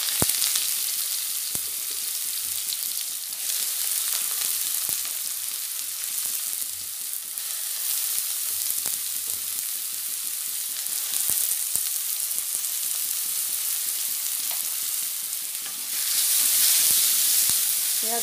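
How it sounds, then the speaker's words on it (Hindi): Chopped onion fries in hot oil in a kadhai, a loud, continuous sizzle up close with occasional scraping stirs and clinks, swelling briefly near the end. "अभी कढ़ाई गर्म हो गया है, मैं उसमें थोड़ा सा तेल दे दिया। अभी इसमें दे रही हूँ कटा हुआ प्याज।"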